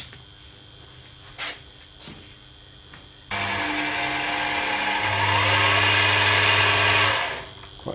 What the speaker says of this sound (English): It's just a chuck. spinning quite nicely.